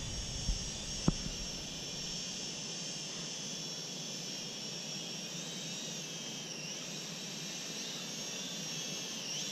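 A small XK X300 quadcopter drone flying close overhead above a field, giving a steady high-pitched motor and propeller whine that holds evenly throughout, with a couple of brief knocks near the start.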